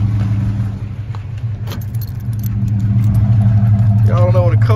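Cold start of a 1988 Chevrolet Caprice Brougham engine: a steady low idle rumble throughout, rising slightly as it settles, with keys jangling and a person speaking over it.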